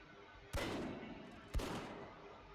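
Two aimed gunshots in the game Dreadlands, each a sharp crack with a booming low thump and a trailing echo, about a second apart against a quiet background.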